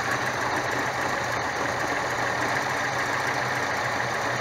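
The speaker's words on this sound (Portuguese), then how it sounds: "o motor tá trepidando bastante. Vou tentar regular aqui." A Chevrolet Chevette engine idling roughly while its carburetor is adjusted, a steady mid-pitched rumble with a shaky, uneven beat, heard close up and alone with no voices.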